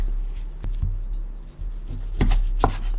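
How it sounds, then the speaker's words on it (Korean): Several heavy knife chops through a slab of pork for dongpo pork on a cutting board, sharp single thuds spaced irregularly and close, without talk. "고기를 반만 좀 쪼개줄게요."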